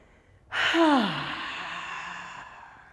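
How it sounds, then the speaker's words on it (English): A long, audible exhale during a yoga session, starting with a sudden breathy rush and then tapering slowly over about two and a half seconds, heard close and alone. "Let's let go of a nice long exhale."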